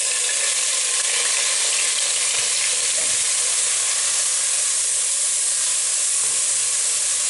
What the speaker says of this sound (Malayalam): അതിനകത്തേക്ക് നമ്മൾ ചതച്ചെടുത്തിരിക്കുന്ന ഉള്ളി, ഇഞ്ചി, വെളുത്തുള്ളി, പച്ചമുളക് ഇതെല്ലാം കൂടെ ചേർത്തിട്ട് നന്നായിട്ടൊന്ന് വഴറ്റിയെടുക്കണം